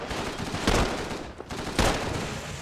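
Dense gunfire from the World War II shooter Call of Duty 3, with sustained rattling bursts swelling loudly around two peaks, firing almost continuously with no talk.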